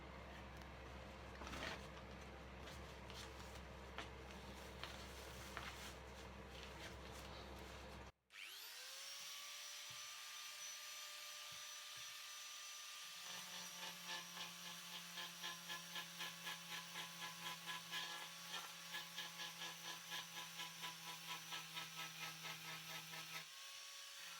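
A belt sander works on a fiberglass custom motorcycle seat for a Moto Guzzi Griso, stripping off release tape. A loud broadband grinding runs first, breaks off, then the motor whines back up with a steady hum and rapid rhythmic scraping.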